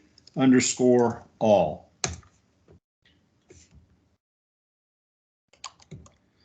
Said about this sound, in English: We can go over here as well and start typing reset all